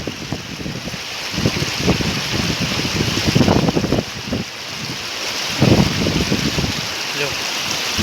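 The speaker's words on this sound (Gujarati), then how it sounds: "ધોધમાર વરસાદ પાછો વરસાદ આવી ગયો" Heavy rain pours onto a village pond, a dense broadband wash of water broken by strong gusts of wind buffeting the microphone in loud bursts.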